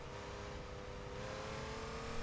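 Race car engine in the video game Gran Turismo 3 holding a steady high-revving drone at full throttle, close and continuous, its pitch climbing slightly over about two seconds.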